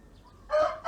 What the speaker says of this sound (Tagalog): Tapos dito, may mga manok.